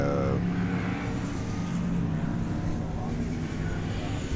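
Steady low engine rumble of several race cars rolling past together behind a pace car at Daytona, at moderate distance, a continuous drone with no pauses.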